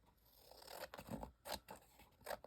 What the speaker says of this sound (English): so I'm going to trim that.